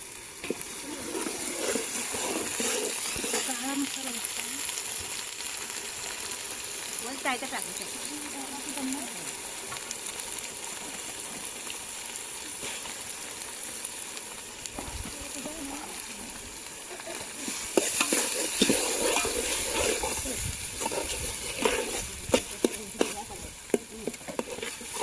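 A homemade paste of onion and dry coconut fries in a pan during a village cooking session, with a steady sizzle and occasional stirring scrapes, close by, while voices talk faintly in the background.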